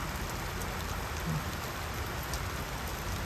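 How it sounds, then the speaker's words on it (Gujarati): Light rain falling steadily in a village, a soft even patter with a faint hiss throughout and no voices. "વરસાદ છે ને તો ચાલુ થઈ ગયો હે ધીમી ધારે આવે હે"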